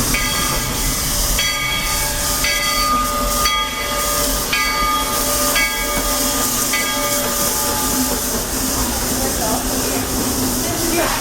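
A Walt Disney World Railroad train pulls into Fantasyland Station with a steady rumble and hiss, while a loud announcer voice speaks over it in clipped, repeated phrases.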